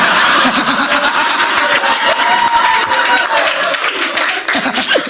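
Loud, close crowd applause rolls on without pause, dense clapping mixed with chuckles, snickers and a little cheering, while voices talk over the noise.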